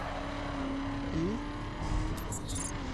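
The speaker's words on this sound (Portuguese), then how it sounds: "tô achando o som do motor do carro um pouco baixo, galera." Faint, steady hum of a racing car engine in the video game The Crew, with its pitch briefly rising and falling.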